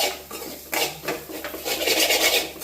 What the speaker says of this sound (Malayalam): ഇളക്കുമ്പോൾ സൗണ്ട് കേൾക്കണം